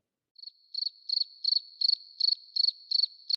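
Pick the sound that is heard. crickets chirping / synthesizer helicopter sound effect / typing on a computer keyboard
crickets chirping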